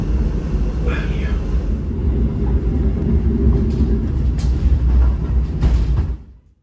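Arjuno Ekspres executive train slowing on its arrival at Bangil station, heard from inside the carriage as a steady low rumble and rolling hum under an onboard announcement, fading out at the end.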